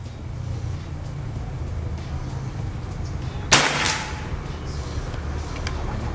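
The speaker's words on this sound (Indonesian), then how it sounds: "Oke, ini untuk tembakan yang pertama." A single sharp PCP air rifle shot cracks once midway, followed by a short hissing tail, set against a steady low outdoor hum.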